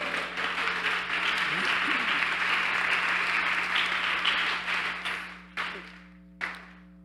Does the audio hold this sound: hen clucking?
no